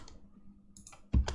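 A single computer mouse click during video editing, a couple of faint light clicks followed by one sharper, closer click near the end, with no voices.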